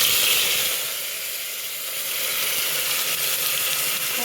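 Onions and curry leaves frying in hot oil for a mutton kuzhambu, a continuous close hissing sizzle that swells and eases slightly throughout with no voices.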